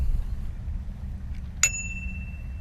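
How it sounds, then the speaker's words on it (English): A single bright ring of a bicycle bell on a 2018 FLX Roadster electric bike, with a ringing tail, heard once over a low rumbling background. "there's also a bell up here."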